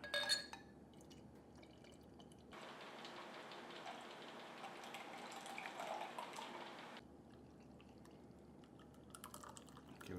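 Craft beer pours into a glass in a faint, steady foaming hiss lasting several seconds, framed by quiet moments with small clinks and no talking.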